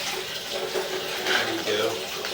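Water runs steadily through a house's plumbing during an inspection, a continuous hiss and splash with faint background voices.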